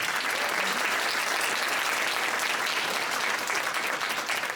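An audience at a county commissioners candidate forum applauds to welcome the candidates, a dense, loud, even wash of clapping filling the room without a break.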